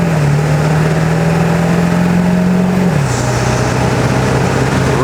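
Ford 7.3L Powerstroke diesel truck fitted with performance injectors revving steadily at three-quarter throttle, a loud continuous engine drone that holds its pitch, then drops slightly as it settles, with no talk.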